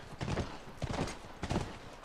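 Horse hooves clip-clop in The Last of Us video game, an irregular trot of quiet hoof falls in several bursts, heard alone.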